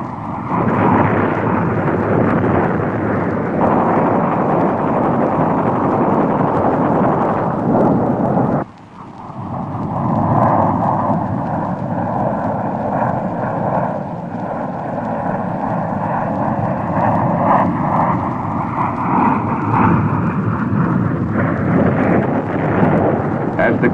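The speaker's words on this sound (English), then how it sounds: "he marks the area for fighter aircraft to follow through" Jet fighter aircraft roar low overhead on a strike run in the Vietnam War jungle, a loud sustained rumbling drone with a sudden dip near the middle and then a sweeping, wavering engine tone as the aircraft passes.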